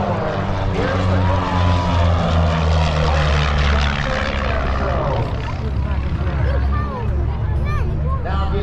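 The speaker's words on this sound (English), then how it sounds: "they're going to be going head-to-head at a closing airspeed of upwards of 400 miles per hour" Airshow aircraft closing head-to-head, a loud continuous propeller and engine roar with a shifting tone, heard under a commentator talking over a crowd.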